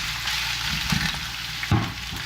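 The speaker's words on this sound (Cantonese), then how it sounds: "就加入薑蓉4湯匙，爆下佢，加完2湯匙油之後，然後咧就將啲葱段擺埋落去爆香" Ginger paste and scallion pieces frying in hot oil in a wok, a steady close sizzle with a couple of brief stirring clatters.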